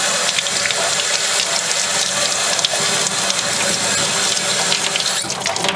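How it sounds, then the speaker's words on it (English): Tap water runs in a steady, close rush to rinse naval jelly off the metal parts of an Uberti Cattleman revolver. The flow stays constant throughout, and a faint clatter of metal comes near the end. "We're going to go ahead and rinse it off."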